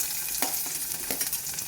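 Chopped onions fry in hot oil after tempering, a steady sizzle broken by short scraping stirs, close and moderately loud with no voices.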